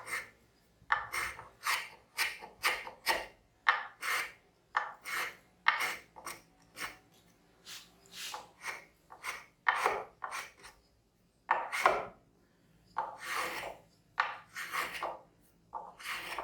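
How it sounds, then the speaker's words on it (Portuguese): A small hand plane shapes the edge of a wooden marking gauge, making a long series of close, rhythmic rasping strokes with short pauses between passes. "Para fazer essa quebra eu vou usar uma plaininha, mas essa quebra pode ser feita também com o formão ou com a própria lima."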